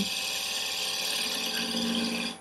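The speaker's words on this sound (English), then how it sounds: "just doing a little bit of a relief there for um, countersink a screw" A power tool grinds a countersink relief into a handmade propeller hub, a continuous high-pitched whine held steadily for a couple of seconds, loud and close.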